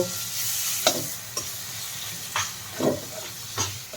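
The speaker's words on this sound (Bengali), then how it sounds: "একটা টমেটো কুচিয়ে রেখেছিলাম সেই টমেটোটা দিয়ে দিলাম এবার এই সমস্ত মশলা আমি ভালো করে কষিয়ে নেব" Spices and chopped tomato sautéing in a pan, with a steady soft sizzle and a few sharp scraping stirs of a utensil breaking through, close and alone with no voices.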